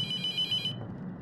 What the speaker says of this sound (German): Klingelt schon wieder ein Telefon.